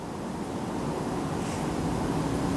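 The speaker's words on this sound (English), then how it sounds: "Still a bit windy, like. Still a bit windy." Steady, broadband wind rushing across the microphone outdoors on grassland by a hall and monastery at night, constant and loud throughout with a low rumble and no voices.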